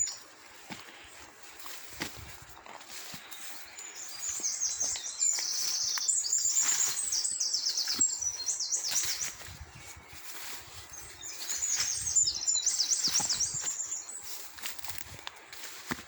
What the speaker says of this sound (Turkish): Kuş seslerini tabii duyuyorsunuz.